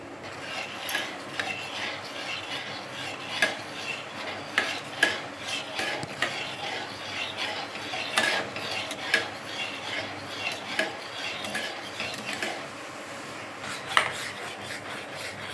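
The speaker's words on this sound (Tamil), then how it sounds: "சிம்மில் வச்சு விடாமல் கலரிட்டே இருக்கணும்" A utensil stirs gram flour batter as it thickens in a pan for khandvi, producing a continuous close scraping against the pan with quick rhythmic strokes and occasional sharper clinks, no talk over it.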